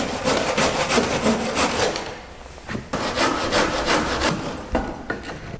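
Solar panel mounting battens sawn back by hand, with fast, steady back-and-forth rasping strokes close up that pause briefly and then resume.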